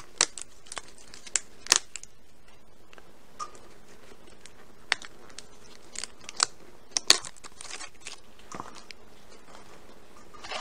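Scissors or a blade cut open a plastic package of glaze in a quiet kitchen, producing sparse sharp snips and light crinkles, close by with pauses between them.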